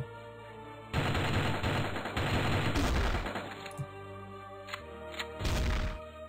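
Shotgun and sniper gunfire in the video game Strike Force Heroes: dense bursts of blasts in several loud volleys, with brief pauses between them and a final heavy burst near the end.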